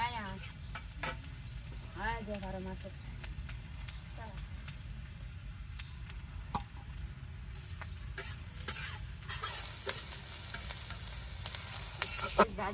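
Vegetables with turmeric fry and sizzle in a pan, stirred now and then with steady scraping and clinks, while a voice speaks intermittently above the continuous frying.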